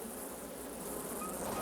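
Bees buzzing around the hives in a beekeeper's bee yard, a dense, steady hum that fills the whole stretch without a break, with no voices over it.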